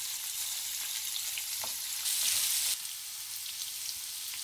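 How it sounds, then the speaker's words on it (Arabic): Onions and sweet peppers sautéing in a pan, a steady soft sizzle throughout with a brief louder hiss midway, no voices. "هنا نقدر نضيف ايضا الفلفل نحطه وياهم وكلهم نحمسهم سوية"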